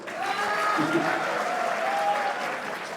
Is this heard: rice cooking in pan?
no